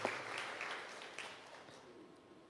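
Church congregation applauding during a sermon, a fairly faint wash of clapping that is strongest at the start and gradually thins and fades away toward the end.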